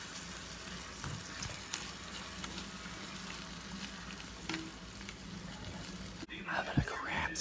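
Garlic sizzling steadily in a frying pan while being stirred, a constant close crackle with occasional scraping clicks and a louder stir near the end.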